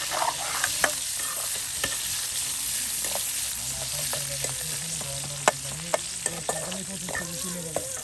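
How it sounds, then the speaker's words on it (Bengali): Onion, chili and garlic fry in plenty of oil in an outdoor forest cooking setting, giving a steady broadband sizzle with scattered spatter crackles and occasional stirring clatter throughout. "দেখুন কত তেলে আপনার পেঁয়াজ মরিচ রসুন ভাজি করা হচ্ছে।"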